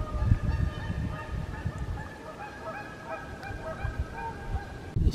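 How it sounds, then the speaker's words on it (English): Geese honk repeatedly at Mitchell Hill Lake in Jefferson Memorial Forest on a windy March morning, their calls moderately distant and scattered over a steady low wind rumble. "Hear the geese at the lake this morning."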